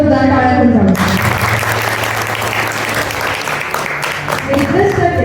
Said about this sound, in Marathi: चला तर आपल्या बांधवांच्या सर्व वुमेन्ससाठी एका जोरदार टाळ्या होऊन जाऊ